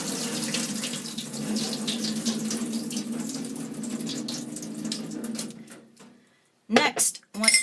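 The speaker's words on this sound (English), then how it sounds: "throw away the white water as quickly as possible" Cloudy rice-rinsing water pours steadily from a bowl into a kitchen sink for several seconds, then tapers off, followed by a few brief clanks of the bowl against the sink.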